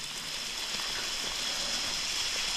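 Steady rain falling in Kolob Canyon in Zion National Park, Utah, a constant close hiss of drops and running water with no talk.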